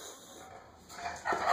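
A dog whimpers in short, thin, high-pitched whines that grow louder toward the end of a brief moment.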